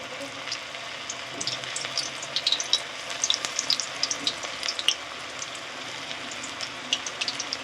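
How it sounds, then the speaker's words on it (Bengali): Chicken pakoras deep-fry in hot white oil in a kadai, a lively crackling sizzle with bursts of bubbling pops, close and continuous, without talk. "এবার আমি পকোড়াগুলো ভেজে নেব, একটা একটা করে ভেজে নেব।"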